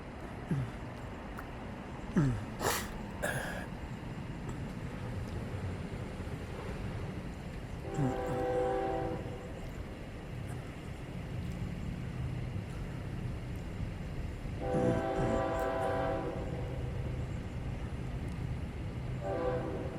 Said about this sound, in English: This is today's FEC 105. It's intermodal cutoff with manifest always.